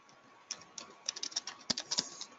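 Keys clatter on a computer keyboard in a quiet room, a run of soft, irregular taps that speeds into a quick burst of typing.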